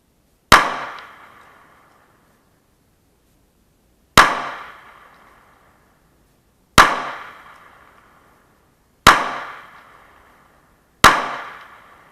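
Five sharp gunshots from a ported S&W M&P9L Performance Center 9mm pistol at a shooting range, each a loud close crack with a short decaying tail, spaced a few seconds apart.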